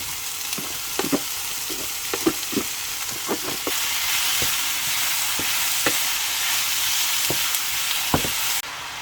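Lardons fry in a little oil in a pan, a steady, loud sizzle running throughout with scattered utensil clicks and taps and no voices.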